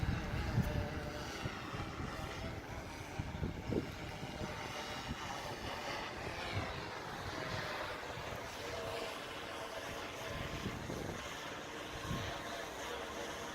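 A fire department drone in flight, a constant buzzing propeller whir heard from nearby with some wind noise, with no talk.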